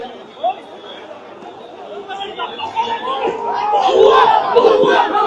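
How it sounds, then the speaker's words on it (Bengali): Crowd of supporters of Osman Hadi chanting "bhuya bhuya" slogans outside Dhaka Medical College, a dense mass of shouting voices that swells louder and more chaotic toward the end. "ওসমান হাদির যে সমর্থকরা রয়েছেন তারা ভুয়া ভুয়া স্লোগান দিচ্ছেন"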